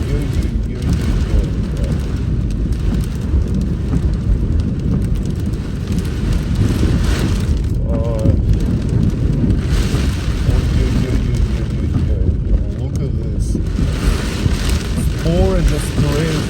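Heavy rain from a severe thunderstorm roars against a car driving along a flooding Victoria Trail in Edmonton, a loud, dense, unbroken wash of noise lasting the whole stretch.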